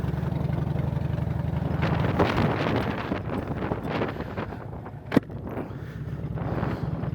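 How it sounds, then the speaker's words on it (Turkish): Strong wind buffets the microphone on a road near Urfa, a steady low roar and rumble that swells and gusts throughout, with a sharp thump partway through. "Bu ara Urfa çok esiyor. Öyle böyle değil, bayağı esiyor."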